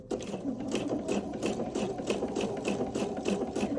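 A sewing machine stitches coiled rope into a bowl, its needle chattering in a fast, steady rhythm close up at an even loudness throughout, with no voices.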